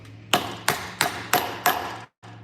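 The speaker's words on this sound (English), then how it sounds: "Now we just take this hammer" A hammer strikes a boot on a bootmaker's support in five sharp, evenly spaced blows, loud and close, each ringing briefly, with a steady low hum underneath.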